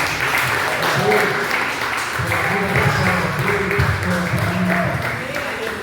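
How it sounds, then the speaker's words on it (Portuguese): A church congregation applauds steadily and densely while a voice speaks over the clapping and low tones run underneath. "Eu acho que você pode aplaudir mais forte."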